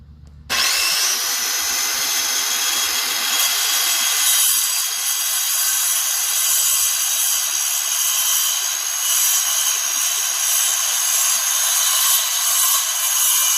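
A power saw fitted with a basic general-purpose blade cuts through Hardie plank fiber cement siding, a loud steady high-pitched whine that starts abruptly and grinds on continuously for over twelve seconds.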